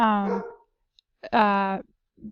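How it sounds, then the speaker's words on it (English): A pet dog barks indoors in two close, loud, harmonic yelps with a whiny tone, followed by a softer short yip, heard on its own without talk. "Sorry, that's my dog."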